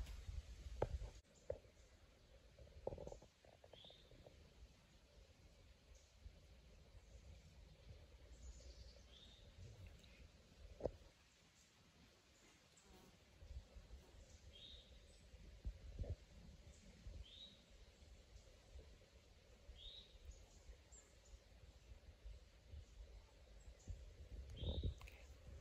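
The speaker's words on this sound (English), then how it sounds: "what we just heard are the American goldfinch, the eastern towhee" American goldfinch and eastern towhee sing in Virginia woodland. Short, faint, distant call phrases repeat every few seconds over a quiet background, broken by occasional soft handling thumps.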